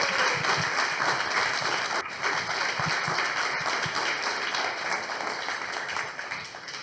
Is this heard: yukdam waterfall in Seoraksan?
no